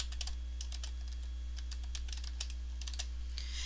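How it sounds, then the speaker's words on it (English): Computer keyboard typing while custom watermark text is entered in Word 2007: a quick, steady run of light key clicks close up, heard alone over a low constant hum. "or you can type your own text."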